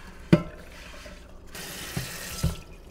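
A nonstick Ninja Neverstick Premium fry pan is washed with a gentle sponge under a running tap, with steady water flow and a few soft knocks of the pan against the sink.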